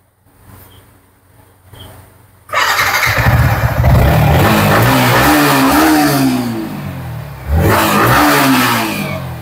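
A 2022 Yamaha R15M motorcycle at a second-hand bike showroom idles briefly, then its engine is revved hard and held loud and close, with rising and falling pitch and a second sharp rev near the end.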